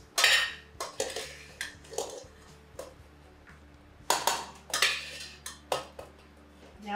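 Lentils pour and tumble into a metal pot, with repeated clinks and scrapes of a spoon and cookware in a home kitchen, several sharp bursts spaced apart, no talk.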